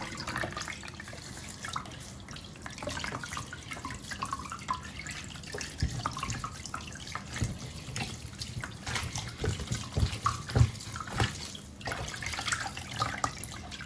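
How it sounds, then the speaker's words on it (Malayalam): Tap water runs into a kitchen sink while broccoli is rinsed under it, a steady close hiss with small splashy fluctuations throughout and no voices. "ബ്രൊക്കോളി ഇതുപോലെ ആദ്യം റിൻസിങ് വാട്ടറിൽ നന്നായിട്ട് ഇതിനൊന്ന് കഴുകി വൃത്തിയാക്കി എടുക്കുക."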